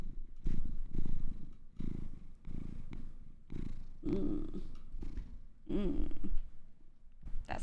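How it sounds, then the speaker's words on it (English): A cat purrs loudly and close to the mic, a deep rhythmic rumble pulsing with each breath, sometimes rising into brief chirpy trills. "He's purring so loud right now."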